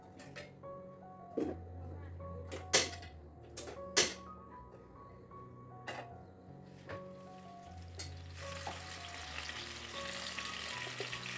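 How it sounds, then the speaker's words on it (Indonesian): Coarsely blended spice paste sautés in hot oil in a home kitchen, with sharp clanks and stirring knocks first, then a steady hiss of frying swelling near the end. "Oke, ini minyaknya udah panas teman-teman. Lanjut tadi bumbunya, lanjut aja aku tumis."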